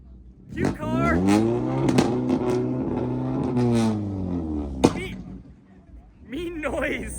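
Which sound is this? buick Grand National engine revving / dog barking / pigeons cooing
buick Grand National engine revving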